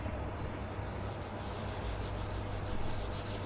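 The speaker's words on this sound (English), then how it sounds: "I'm just going to sand this out." A clear-coated surface is sanded by hand with 600 grit sandpaper, a close, quiet, rhythmic rubbing with regular back-and-forth strokes.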